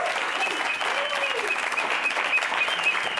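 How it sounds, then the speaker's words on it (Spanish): An audience gives a sustained round of applause for an instrumental musician, with many hands clapping evenly at moderate loudness and voices faintly audible beneath the clapping. "Sí, un aplauso."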